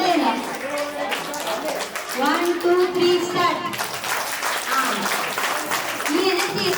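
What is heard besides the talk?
audience clapping on cue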